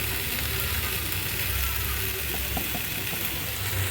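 Vegetable bhaji with turmeric frying in a pan, a dense, continuous sizzle with a low rumbling undertone, steady and close throughout with no speech.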